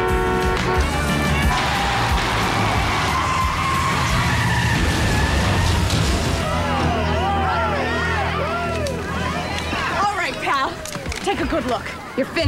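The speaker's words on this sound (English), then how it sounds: "I said I'd drive up in the car. I never agreed to any stunts." Car tyres skid and squeal repeatedly during driving stunts in a television drama, with long wavering screeches over engine noise and a murmuring crowd in the background.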